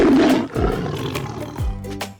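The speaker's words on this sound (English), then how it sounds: "Look, friends! This is a lion!" Lion roaring in a children's animal learning clip, a loud rough roar followed by two shorter descending grunting roars, close and prominent.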